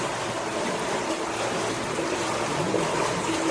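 Water runs steadily through an enclosed tunnel, giving a constant, close, rushing wash of sound with no breaks.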